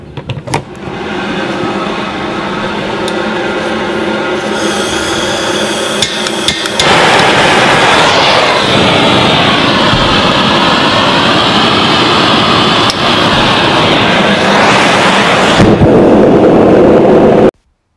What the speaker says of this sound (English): So let's light the forge.